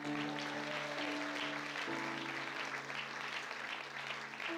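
A church congregation applauds loudly and continuously, a dense steady wash of clapping from many hands that holds for several seconds under sustained organ or keyboard tones.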